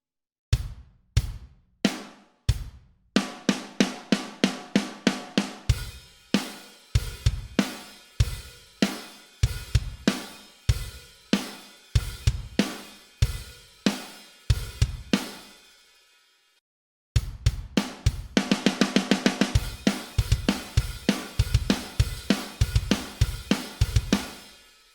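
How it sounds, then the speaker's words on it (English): Pop punk drum groove at double time: sparse opening hits, then a tight fast kick-snare-hat pattern, a brief pause, and a denser driving section with busy cymbals, loud and close without any voice. "we're going to double the time and play a pop punk groove that goes like this"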